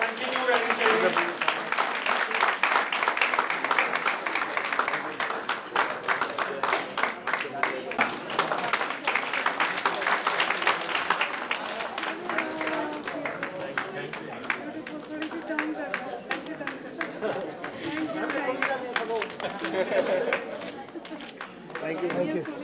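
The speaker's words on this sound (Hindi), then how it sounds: "तालियां" A large audience at the Udaan Idol 2017 grand finale claps continuously for over twenty seconds, a dense, steady roar of hands with crowd chatter mixed in.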